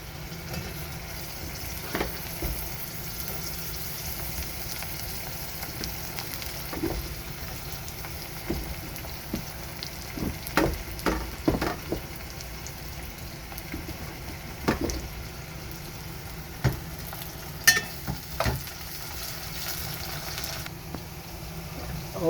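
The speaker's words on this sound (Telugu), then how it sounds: "ఇప్పుడు వంకాయని కూడా ఒక 2-3 నిమిషాలు బాగా ఫ్రై చేసుకుందాము." Brinjal frying in a pan with green chillies and onions, a faint steady sizzle with occasional stirring clicks and scrapes spread over a long quiet stretch.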